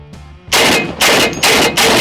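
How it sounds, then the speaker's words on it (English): An AK-50 heavy rifle is shoulder fired, giving three loud, sharp, booming shots spaced evenly about half a second apart, close and alone. "Time to shoulder fire this big heavy bitch."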